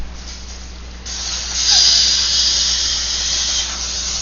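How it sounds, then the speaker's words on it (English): Cooking spray hisses from a can onto a pan in a home kitchen, a steady close burst of about two and a half seconds rising after a quiet start, heard alone with no talk. "We're going to spray it so nothing sticks."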